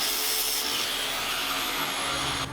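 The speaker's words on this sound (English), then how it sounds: "it sounds like an angle grinder" A cheap angle grinder runs steadily at close range, a loud, continuous high-pitched whine with a rough buzzing edge, holding constant before cutting off at the end.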